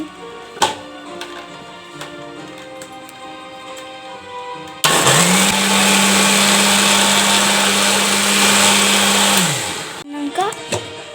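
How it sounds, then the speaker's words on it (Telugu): A kitchen mixer grinder whirs loudly for about five seconds while blending mango juice, spinning up sharply, holding a steady high drone and winding down, with quieter clinks and handling noises before and after. "ఒకసారి మళ్ళీ గ్రైండ్ చేసుకోవాలి"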